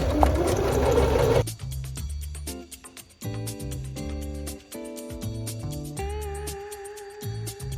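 A sewing machine stitches a jewelry pouch, starting with a loud, fast run and then going through several shorter bursts of rapid, even needle ticking with brief pauses between.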